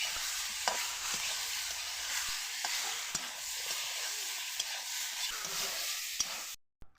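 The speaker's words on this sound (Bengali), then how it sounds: "যতক্ষণ না একটু ভাজা ভাজা হচ্ছে ততক্ষণ নাড়াচাড়া করতে হবে।" Potatoes and eggplant fry with neem leaves in a pan while being stirred, a steady broadband sizzle broken by several sharp scraping clicks of the spatula, close and continuous with no talk, cutting off abruptly at the end.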